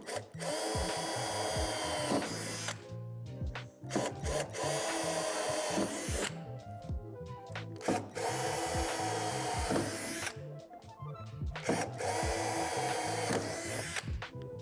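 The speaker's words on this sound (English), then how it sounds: "Drill through the first layer of metal with the provided drill bit." A power drill whines in repeated long bursts, drilling through metal on an outdoor storage shed, starting and stopping several times with short pauses between, steady and close.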